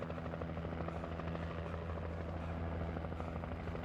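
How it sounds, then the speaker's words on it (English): Helicopter hovering overhead in the video game Alan Wake Remastered, a loud, continuous rotor thrum with steady beating blades that fills the scene without pause. "I guess I'll just walk with the light of the helicopter down on me to give me protection."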